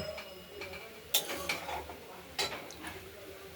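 A lid set down on a pot of mustard greens cooking on a stove, giving a few sharp metallic clinks and knocks near the mic, with quieter rattles between them.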